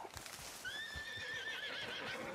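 A horse in a video game whinnies in a long, wavering neigh over soft, rhythmic hoof clip-clops, fairly quiet.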